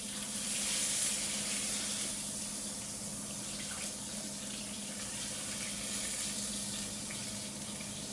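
Water running and pouring steadily into a pot of cooking broth for a chicken dish, a continuous close hiss-and-splash with no talk over it.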